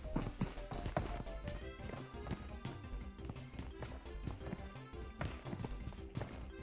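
Horse hooves clip-clop in PUBG Mobile, a brisk, steady run of light knocks mixed with other game sounds at fairly low level.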